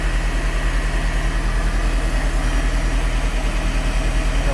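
A 350-horsepower Volvo Penta engine in a 2005 Crownline 270 boat runs at idle, giving a steady, even low rumble with a faint mechanical hum and no voices.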